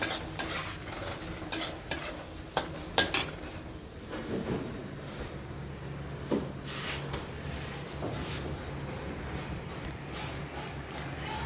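Spice paste for egg curry frying in a home kitchen pan, a utensil scraping and clacking sharply against the metal in bursts, then quieter stirring over a low, steady sizzle.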